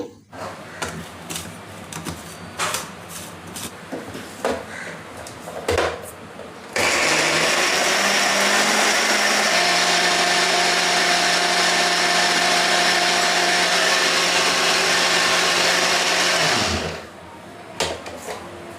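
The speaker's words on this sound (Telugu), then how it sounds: "కొద్దిగా నీళ్లు పోసి మెత్తటి పేస్ట్ లాగా గ్రైండ్ చేసుకోవాలి." After scattered clicks and knocks, a mixer grinder roars loudly for about ten seconds while grinding a wet paste with a little water, then winds down and stops.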